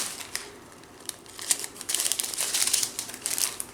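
Scissors snip through diamond art kit strips, the crisp cuts and crinkling paper coming close and fairly quiet, with denser clustered snipping toward the end.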